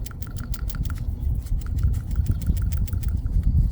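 An old PCV valve from a 2.4L Honda Accord, shaken by hand, gives a quick run of sharp, light rattling clicks in a steady rhythm, close up over a low background hum.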